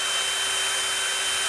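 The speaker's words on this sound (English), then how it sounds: "we're just going to use a manual drill motor here" A handheld manual drill motor drives screws to fasten metal plates together for a toothpick dispenser build, giving a steady, loud, continuous whirring drone with no pauses, heard alone without speech.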